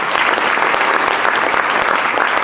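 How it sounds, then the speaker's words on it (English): Audience applause for Tim after a panel talk on social media marketing, a dense, steady wash of clapping from a crowd, loud and continuous with no talk over it. "Give Tim a round of applause"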